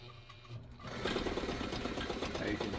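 A Kenmore 158.504 sewing machine runs a wide zigzag stitch, a steady rapid mechanical whirring and clatter that starts after a brief quieter moment and continues evenly at close range.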